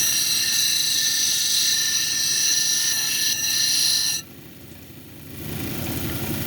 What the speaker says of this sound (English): start on this top edge here and kind of start grinding in